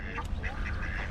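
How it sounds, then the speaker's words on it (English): At a park pond, a duck gives a short run of close, raspy quacks in a brief moment over steady outdoor background noise. "Look at the duck."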